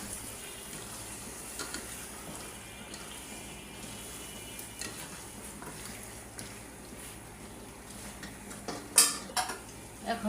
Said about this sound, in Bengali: আলুটাও দিয়ে দিব এখন।